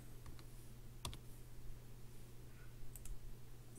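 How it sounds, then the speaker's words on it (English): Computer keyboard typing comes through faintly as a few scattered key clicks over a steady low hum, with no talking. "I'm gonna type live."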